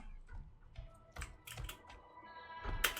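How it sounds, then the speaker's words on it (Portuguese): Close keyboard typing: scattered, irregular key clicks and clacks with a sharper burst near the end, quiet overall and no talking. "escutem o barulho do teclado"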